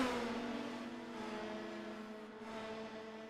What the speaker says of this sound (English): Now drag racing down the Mario Andretti straightaway.